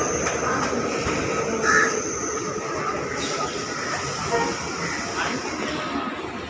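A local train pulling into a Mumbai railway station, a steady rumble of carriages and wheels with crowd babble and station noise around it throughout.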